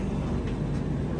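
Aboard the 20803 Visakhapatnam–Gandhidham Superfast Express as the passenger train moves off, with a steady, dense low rumble and broadband rolling noise that stays even throughout.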